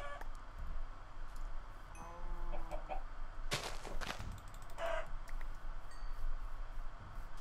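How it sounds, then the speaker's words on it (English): Chickens clucking in the Minecraft video game, several blocky birds making short game-style clucks scattered over steady ambient noise, with a louder burst of sound partway through. "There's so many chickens here."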